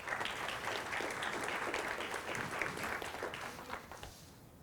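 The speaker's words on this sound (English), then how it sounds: "Also a warm round of applause for Tanya." An audience gives steady applause to welcome a speaker onto the stage, an even wash of clapping that thins out at the end.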